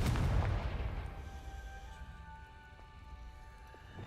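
The Confringo fire spell in Hogwarts Legacy goes off as a loud, deep blast that rumbles and then fades into a crackling, sizzling tail with a faint ringing tone.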